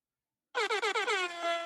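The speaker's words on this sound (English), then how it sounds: "Air horns. We got it. We own it. On demand." A loud air horn blares after a moment of silence, with several quick pulsing honks merging into one sustained blast.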